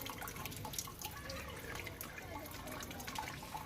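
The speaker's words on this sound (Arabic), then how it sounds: "هسه راح نصفي المي مالته السوب" Broth drained off cooked chickpeas and meat for a Najaf-style qeema, a steady trickle and splash of liquid pouring with small drips, close and continuous at moderate level.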